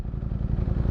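Ducati Streetfighter V4 motorcycle with winglets out on a ride, a steady, loud engine drone with a throbbing low pulse and some mechanical clatter, no voices.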